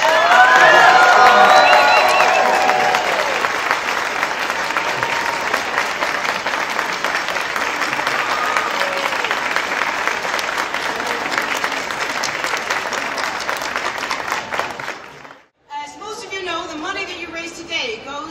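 A large crowd applauds at an AIDS Walk opening ceremony, loud continuous clapping with scattered cheers and whoops that swells early, holds steady, then drops away as voices and other sounds take over.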